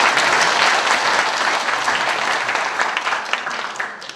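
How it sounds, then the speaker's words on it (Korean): Loud, sustained applause from an audience at an anniversary founding ceremony for a local history and culture institute, steady and dense throughout, easing off slightly toward the end. "다시 한번 박수 부탁드리겠습니다."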